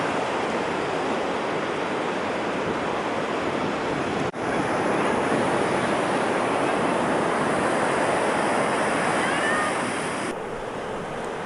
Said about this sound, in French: nous sommes surpris par la violence des vagues